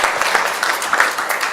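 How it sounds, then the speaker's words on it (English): Audience applause at an aging research workshop, a steady dense wash of clapping with no voices. "applause, because that was fantastic."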